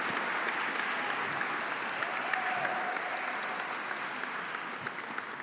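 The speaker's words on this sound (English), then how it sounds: "Let's give a big round of applause to Brian and Renaissance" Audience applause at an awards night, a steady wash of many hands clapping from a crowd, sustained and moderately loud throughout without a break.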